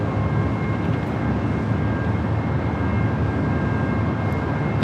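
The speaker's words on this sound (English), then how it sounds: "Southwest Airlines heading to Sacramento, flight 3118 to 737 and MAX 8" Southwest Airlines Boeing 737 MAX 8 jet departing LAX for Sacramento, a loud continuous broadband engine roar holding steady throughout with no pauses.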